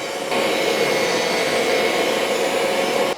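A BISSELL ProHeat 2X Revolution carpet cleaner sucks spilled juice out of carpet, giving a steady, loud motor-and-suction roar that holds constant for about three seconds before cutting off.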